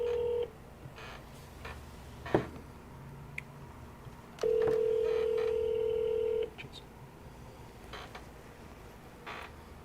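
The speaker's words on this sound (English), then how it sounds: "Let me know if you guys can hear the phone too." A forwarded telephone call produces a burst of DTMF dialing beeps, then a long steady electronic ringing tone, heard clearly over faint background noise with no talk.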